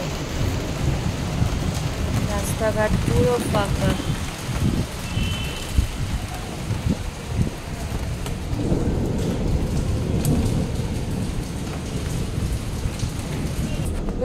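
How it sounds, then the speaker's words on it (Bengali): A thunderstorm with steady, heavy rain pours down on empty village roads, thunder rumbling throughout as a continuous loud wash, while a person speaks briefly over it. "দেখো ঝড় হচ্ছে, তার সাথে সাথে বৃষ্টি।"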